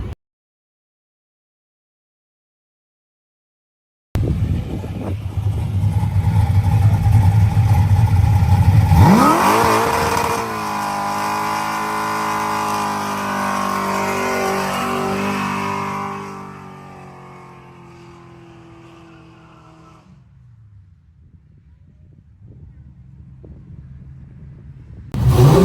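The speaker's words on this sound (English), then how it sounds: "Cole did an epic burnout" A car does a hard burnout, its engine revving up loudly and holding at a high, strained pitch for several seconds before easing off into a lower idle rumble.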